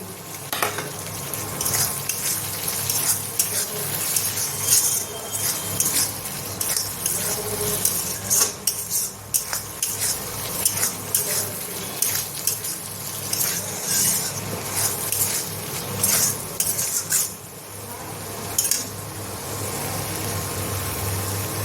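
Ground turmeric, coriander and Kashmiri chili being stirred and fried in a pan for mushroom potato curry, a steady loud sizzle with continual scraping of a utensil against the metal, running nearly unbroken throughout.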